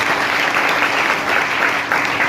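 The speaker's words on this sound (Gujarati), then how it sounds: "જોરદાર તાળીઓ." Loud, dense applause from the audience at a high school farewell ceremony in Shiyani, steady clapping filling the whole stretch without a break.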